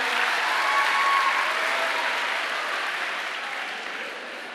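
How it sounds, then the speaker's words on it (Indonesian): A conference audience at a church event applauds warmly, with sustained clapping that slowly fades. "Tepuk tangannya buat kakak Andrew ya."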